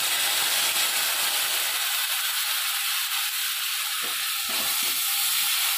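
Spices sizzle and fry in a hot pan for a fresh coconut dry chicken dish, a steady dense hiss holding throughout with a few soft clinks near the end.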